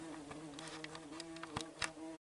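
A bee buzzes low around someone's feet outdoors, a steady faint drone with brief louder swells as it moves close, heard alone without speech.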